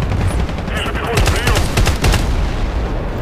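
Loud automatic gunfire in Battlefield Play4Free on the Gulf of Oman map, a dense continuous rattle of shots with a few sharper bursts through the middle, close and without pauses.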